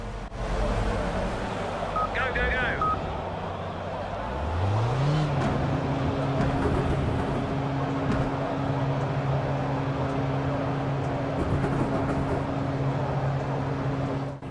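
A race car engine in Project CARS during qualifying for the 24 Hours of Le Mans, revving up with a rising whine and then holding a loud, steady drone, with a brief electronic chirp early on.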